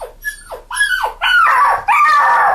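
A dog whimpers and yips close by in a series of high, rising and falling cries, growing louder and longer toward the end, with no talking.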